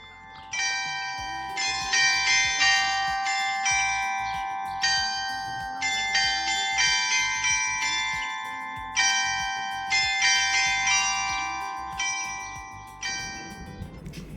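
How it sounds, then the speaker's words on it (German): Glockenspiel mounted on a shop facade in a German town street, playing a clear, bright melody of tuned bells in repeated phrases, moderately distant, with faint street noise beneath. "Dabei entdeckten wir auch das Glockenspiel an der Fassade eines Geschäfts."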